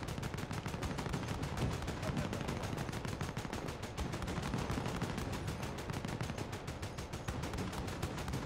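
Sustained automatic gunfire from a Call of Duty: Modern Warfare campaign mission, dense rapid bursts crackling nonstop at loud, steady intensity throughout with a low rumbling undertone.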